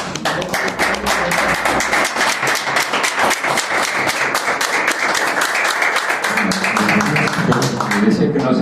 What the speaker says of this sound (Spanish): Fantástico, un aplauso.